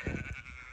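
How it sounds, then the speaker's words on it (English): A sheep bleats close by on a hillside in the Peak District near Castleton, a short wavering call in open air. "Got some lovely sheep here"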